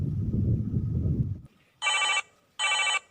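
After a low rumbling noise stops, a telephone rings twice in bright trilling bursts with a short pause between, clear and close.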